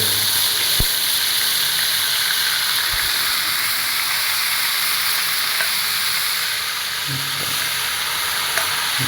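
Chicken frying in hot oil gives a loud, steady sizzle and hiss that fills the whole stretch, with a few faint clicks and knocks from the pan and no voices.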